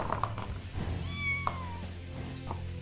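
Cat meowing in the Animallica animal-sanctuary game, a few short mews and one longer rising-falling meow over a quiet backdrop of soft game ambience.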